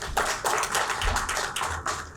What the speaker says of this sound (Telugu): అందరూ ఒకసారి గట్టిగా చప్పట్లు కొట్టండి.